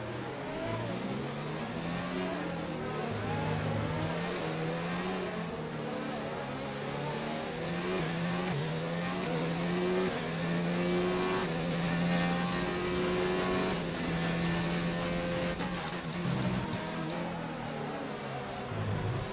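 A Formula 1 car engine in the F1 2019 video game racing at Monaco, a continuous high-pitched whine rising and falling through gear changes, steady and moderately loud, with faint voices beneath.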